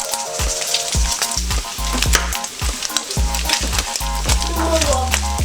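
Chopped bacon frying in extra virgin olive oil for a sweet bacon jam, a loud continuous close sizzle with frequent scraping and clanking stirs against the pan, no voices.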